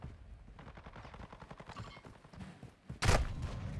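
Gunfire in an online shooter game: a rapid run of soft, rhythmic shots in the background, then a sudden loud, close blast near the end.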